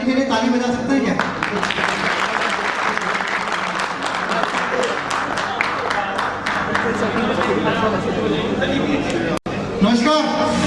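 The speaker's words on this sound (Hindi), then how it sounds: "जितने लोगों ने हाथ नहीं उठाया इनके लिए ताली बजा सकते हैं क्या?" Sustained audience applause fills a hall during a product launch speech, dense clapping with crowd chatter mixed in, holding steady for about ten seconds before a voice returns near the end.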